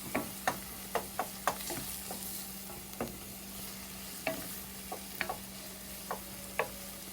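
Sautéing in a pan for chicken tikka masala over a medium flame, a soft continuous sizzle with a low hum beneath and sporadic sharp spoon taps and scrapes against the pan, close but quiet.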